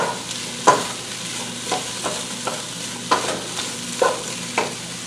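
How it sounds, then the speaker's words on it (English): Onion and ground beef sweat in a pot over a steady soft sizzle, while a spoon scrapes and stirs at irregular intervals, close and moderately loud. "We're going to just sweat that onion a little bit with the"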